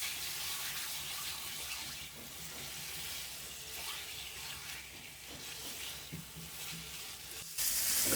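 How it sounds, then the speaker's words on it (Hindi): Chicken liver sizzles steadily in masala in a pan, a continuous close frying crackle with occasional stirring scrapes, loud and unbroken throughout. "इसको हम मसाले के अंदर अच्छे तरीके से भून लेंगे।"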